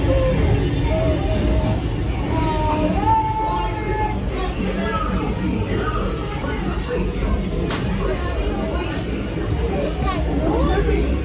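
A ride vehicle on Mickey & Minnie's Runaway Railway at Disney's Hollywood Studios rumbles and squeals along its track, loud and continuous with crowd murmur and chatter in the background.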